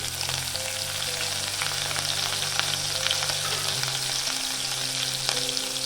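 Cumin seeds and chopped green chillies crackle and sizzle in hot oil and ghee for jeera aloo, a dense continuous close frying hiss with a few brief pops and a faint low hum underneath.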